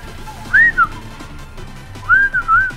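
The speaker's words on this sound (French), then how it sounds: "Pas de sifflet s'il vous plaît." Someone on a Discord voice chat whistles two short, clear, rising-and-falling melodic phrases, loud and close, with quiet background hiss between them.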